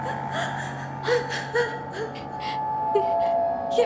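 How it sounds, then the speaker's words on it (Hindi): A woman sobs and gasps in a Hindi-dubbed horror film, her short breathy whimpers and catches coming in uneven bursts over a steady low hum and faint ambient tones. "ये माया के रोने की आवाज है।"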